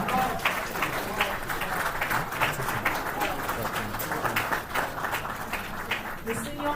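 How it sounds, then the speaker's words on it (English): Sustained audience applause for the guest of honor at a Nigerian-American Chamber of Commerce breakfast meeting, steady even clapping from a roomful of people throughout, with murmured voices beneath. "Please, another round of applause for our guest of honor."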